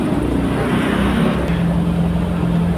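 Heavy road traffic on EDSA heading toward Ortigas, a constant dense rumble of cars and engines with a steady low drone, fairly loud and unbroken.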